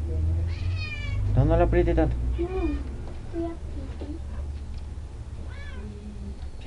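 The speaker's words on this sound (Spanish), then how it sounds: "Este es un gato bebé." A young kitten meows repeatedly, rising and falling cries close by, while people talk over and between the calls.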